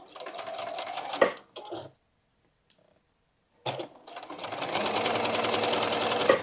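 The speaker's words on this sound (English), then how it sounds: "sew up this half square triangle, sewing 1/4 of an inch away from the line that I drew" A sewing machine stitches a half square triangle quilt block a quarter inch from a drawn line, running in two steady bursts of whirring, separated by a short pause and faint handling, then a longer continuous run.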